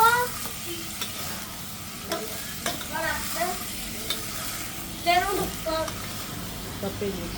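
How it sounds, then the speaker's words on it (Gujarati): Vegetable curry tempering sizzles and crackles in a pot over a wood-fired chula, with a steady frying hiss and bursts of spattering and stirring, under people talking in the background. "હવે આપણે શાકનો વઘાર થઈ ગયો છે"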